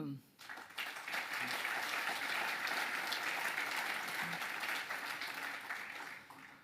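A crowd at a New Year's address applauds two Olympic medallists, a sustained, fairly soft wash of clapping that swells quickly and holds steady before tapering slightly at the end.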